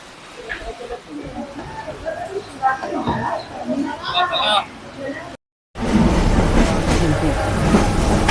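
Interior of a moving Mumbai local train near Kalyan: a steady rumble with rail clatter and faint voices, cut by a brief gap before a louder, denser stretch of running noise.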